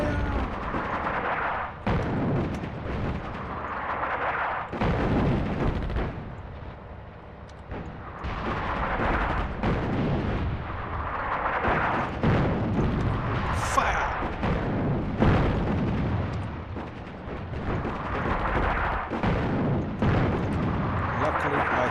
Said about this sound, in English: Luckily, I have artillery.